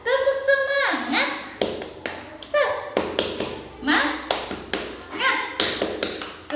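Children doing the tepuk semangat rhythmic clap: a sharp, close clapping pattern in quick bursts and pauses, interleaved with young voices chanting and talking.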